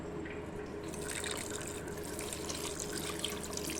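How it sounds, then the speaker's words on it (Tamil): Water is poured into a pan of goat head meat curry, giving a faint, steady trickling and splashing that runs on without a break and has no talking over it. "இப்போ தண்ணி சேர்த்துக்கலாம்."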